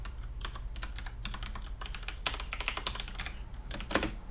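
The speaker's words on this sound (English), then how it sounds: "I'll just start with typing it out" Rapid typing on a computer keyboard, with irregular bursts of clicking keystrokes close to the mic, quicker and heavier near the end, over a low steady hum.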